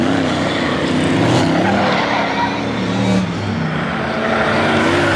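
BA Stock Car at a Grimley Raceway Grand National final lap spinning backwards into the infield tyres, a loud, continuous roar of racing engines with skidding tyre noise, close and dense throughout, with a commentator's voice partly audible over it.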